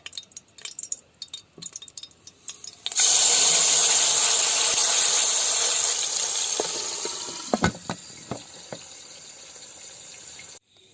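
Chicken pieces dropped into hot oil in a pressure cooker burst into a loud, steady sizzle that starts abruptly and slowly eases, with a few metallic clinks of utensils against the cooker near the end.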